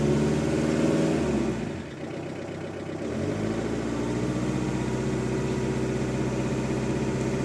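A car engine idles steadily at about 1500 rpm in a garage, a low, even hum close by after a short dip in level near the start, with no talking.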